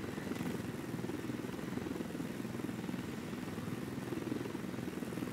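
Helicopter in the video game Ghost Recon Wildlands, a steady low rotor drone that holds throughout at moderate, even loudness with no talk over it.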